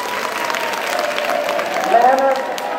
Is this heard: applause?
yes